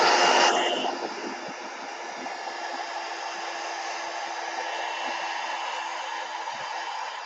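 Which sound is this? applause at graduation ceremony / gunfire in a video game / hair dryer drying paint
hair dryer drying paint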